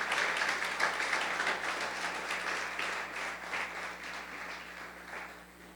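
A church congregation applauds together, a soft, fairly distant wash of hand claps that gradually thins and fades over a few seconds.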